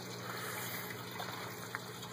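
Water runs steadily through a 150-gallon backyard aquaponics system with gutter channels and flood-and-drain grow beds, giving a continuous faint gushing and trickling wash with a low hum beneath it.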